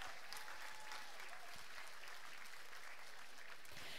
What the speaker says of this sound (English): Let's give Caitlin a big round of applause, because she stuck her neck out today.